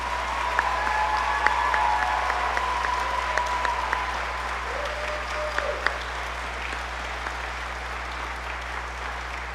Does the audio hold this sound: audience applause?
yes